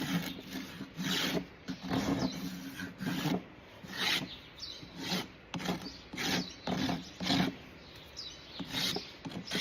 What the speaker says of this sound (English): When you hear the rasp catching, like right there